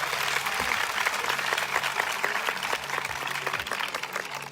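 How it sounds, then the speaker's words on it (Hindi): A revival meeting congregation in Sahiwal applauding for Jesus, dense sustained clapping from a large crowd filling the whole stretch, loud and close. "आओ यीशु के लिए जोरदार तालियां बजाओ।"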